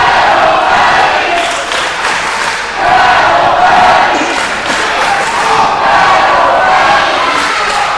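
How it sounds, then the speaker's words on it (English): A wrestling arena crowd jeers at a heel competitor, a loud, continuous wall of booing and shouting voices that swells and dips across the whole stretch without a break. "This crowd is really getting on the case of Pretty Dangerous."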